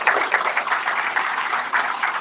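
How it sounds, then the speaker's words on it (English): A breakfast audience at an economic development event applauds, a steady, even wash of clapping that continues at constant loudness for about two seconds. "Let's give Brian a round of applause"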